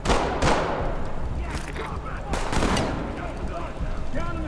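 Gunfire rings out in the tactical shooter video game Ready Or Not, with several loud close shots and bursts layered over a dense, noisy combat background.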